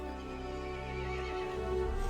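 A horse in a Resident Evil Village story, neighing loudly and close with a long, quavering whinny that rises in strength toward the end, with no talk.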